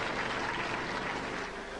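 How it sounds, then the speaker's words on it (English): Brief burst of studio audience applause on a robot combat show, a dense, even wash of clapping held at steady level for under two seconds. "Give them a round of applause."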